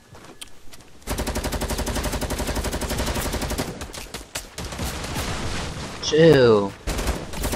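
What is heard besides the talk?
gunfire in a video game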